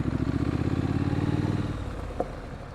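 A motorcycle engine runs steadily up close with a low rumbling drone while riding a winding road in Litchfield County, Connecticut, easing off slightly near the end with a brief clack.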